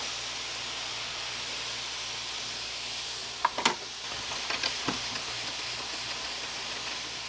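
Butter melting in a hot pan during an RV breakfast cook, giving a soft steady sizzling hiss with a few brief clicks and knocks partway through, fairly quiet and with no voices.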